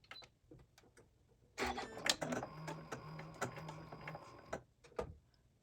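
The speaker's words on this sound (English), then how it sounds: "if I touch that, it will do 3 lock stitches" A sewing machine makes a short run of lock stitches at the top of a purse seam: a mechanical whirring and clicking burst of about three seconds, fairly close, with a few light taps and clicks before and after.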